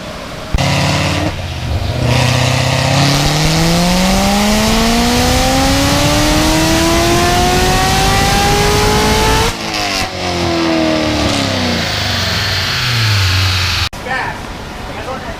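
C7 Corvette Z06 engine running a full dyno pull, loud and close, revving in one long rising sweep, dropping briefly at a gear change, then climbing again before cutting off.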